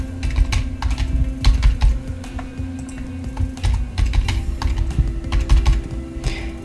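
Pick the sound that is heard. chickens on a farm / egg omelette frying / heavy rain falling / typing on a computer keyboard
typing on a computer keyboard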